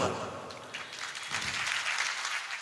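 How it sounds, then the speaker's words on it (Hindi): Devotional gathering audience clapping, a steady patter of many hands building slightly over a few seconds, fairly soft and distant. "अपनी नाकामी पर ताली मत बजाओ"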